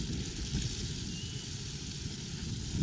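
A car engine hums steadily close behind a cyclist, a low continuous drone under outdoor road noise on a snowy Paris street.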